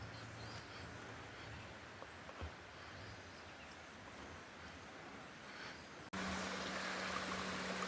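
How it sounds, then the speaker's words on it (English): Floodwater still trickles and drips in a yard after a flash flood in West Virginia, a faint steady wash of running water with outdoor ambience, then a sudden louder burst near the end. "It's still dripping a little."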